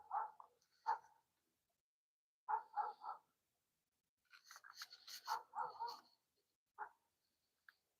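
Dogs bark outdoors in short bursts of two or three, fairly near, with a longer cluster of overlapping barks and yelps in the middle and a single bark toward the end, separated by quiet gaps.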